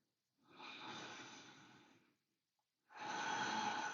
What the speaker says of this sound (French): Inspirez là. Expire.